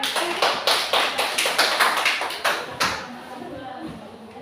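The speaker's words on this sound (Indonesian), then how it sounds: "Aplaus untuk" A classroom group gives rhythmic applause for group 3, about eight sharp, evenly spaced claps that then fade into room noise, with voices around.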